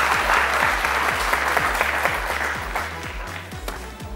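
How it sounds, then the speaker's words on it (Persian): A game-show studio audience applauds a family team, a dense, steady clapping over a pulsing low musical beat that gradually tapers off. "استنیا را خوب تشویق کنه که 103 امتیاز بگیرن."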